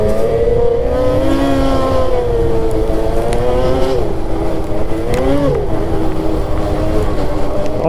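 Four-wheeler ATV engine drones steadily on a snowy trail, its pitch rising and falling as it pulls away and shifts, loud and close against constant rumbling ride noise.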